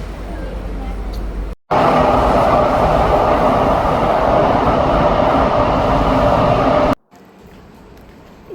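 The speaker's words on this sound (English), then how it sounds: "Train is coming." A metro train pulls into a Singapore station, a loud, steady roar and rumble that swells in abruptly and holds for about five seconds before cutting off, with quieter station ambience around it.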